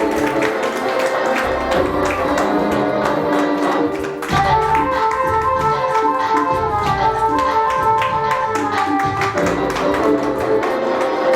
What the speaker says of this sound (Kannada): ನಿಮ್ಮೆಲ್ಲ ಅದ್ದೂರಿ ಚಪ್ಪಾಳೆ